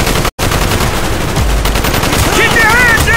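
A ZPU anti-aircraft gun in Call of Duty Black Ops fires a loud, continuous burst of heavy automatic gunfire that fills the whole stretch, broken only by a brief gap near the start.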